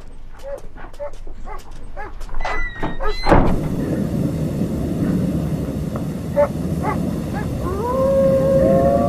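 A dog howls and whines in rising, wavering cries, then a loud, continuous wash of broadband noise takes over, with thin tonal cries still faintly audible above it.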